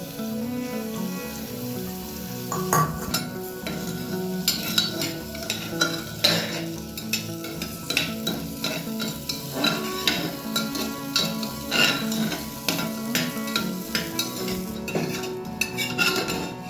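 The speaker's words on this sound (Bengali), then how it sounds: "প্রথমে আমি কাজু কিশমিশটাকে একটু ভেজে নেবো" Cashews and raisins fry in hot ghee in a pan, a soft sizzle running beneath frequent sharp scrapes and clinks of a spoon stirring against the metal.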